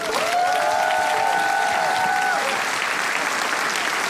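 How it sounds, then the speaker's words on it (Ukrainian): Steady, loud applause and cheering from a large crowd at a national Eurovision selection final, with a brief sustained melodic tone ringing over it early on. "Проведжаємо оплесками."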